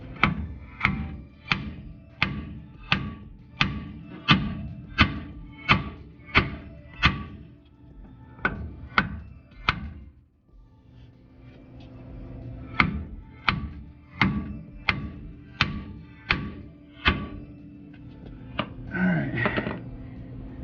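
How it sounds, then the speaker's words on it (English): Hammer blows smacking a steel steering knuckle to break a ball joint loose on a Chevy OBS truck front end: a rapid run of sharp metallic whacks, a brief pause, then another series of close, ringing strikes, with a little clatter at the end. "we will smack the knuckle just to get this ball joint loose"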